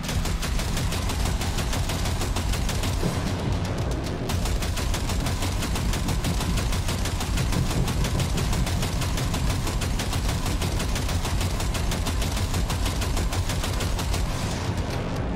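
Sustained automatic gunfire in the video game Cyberpunk 2077, a dense, rapid rattling of shots that runs continuously and loudly for about fifteen seconds with no voices over it.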